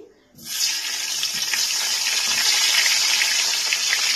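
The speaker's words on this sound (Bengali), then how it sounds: "কালো জিরেটা ফোড়ন দেওয়ার পর এর মধ্যে আমি এক এক করে আলুগুলোকে দিয়ে দিচ্ছি।" Potatoes dropped into hot oil with black cumin tempering for a hilsa fish curry, a sudden loud sizzling hiss that keeps crackling steadily after the first splash.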